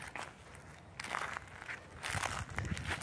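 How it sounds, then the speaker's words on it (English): Footsteps crunch through crisp dry leaves, close and steady in bursts of rustling crackle that swell and fade with each step, no voices. "I love the sound of the leaves crunching."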